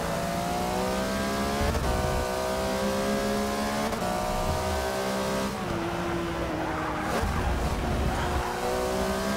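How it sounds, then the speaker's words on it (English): Porsche 911 GT3 race car in Forza 6, a 2011 Flying Lizard entry, its engine droning steadily and loud throughout as it climbs and drops through gears, with brief tire noise and shifts in the middle of the run. "GT3 sounds pretty good. I like the sound of it."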